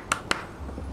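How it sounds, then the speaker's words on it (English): Two sharp, quick hand claps sound close together near the start, crisp and close, followed by quiet. "I don't know why I clap like that."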